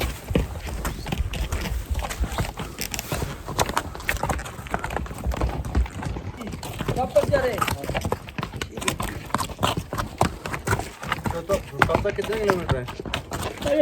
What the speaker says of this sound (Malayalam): ഇതൊക്കെ മറ്റേ ട്രക്കിങ്ങിന് വരുന്നവരെ ലഗേജ് കൊണ്ട് പോകുന്ന കുതിരകളാണ് കേട്ടോ.